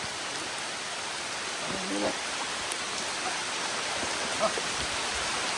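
Steady, hissing rain falls evenly throughout, with a brief faint voice-like murmur partway through.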